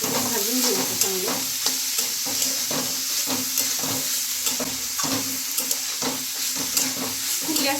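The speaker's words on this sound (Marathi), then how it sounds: "आता छान भाजून घेऊ ह्या भाज्या आणि टोमॅटोही घालून घेऊ" Vegetables and tomatoes stir-fry on high heat for Schezwan rice, a loud steady sizzle with frequent sharp scrapes and clanks of the spatula in the pan, no one talking.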